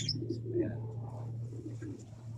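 Racing pigeon cooing softly nearby, a few low murmuring coos over a steady background hum, with faint chirps from other birds.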